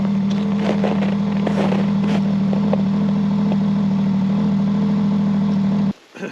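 A snowmobile sled engine idles in winter cold, a steady low droning hum held close and loud throughout, then cutting off abruptly near the end.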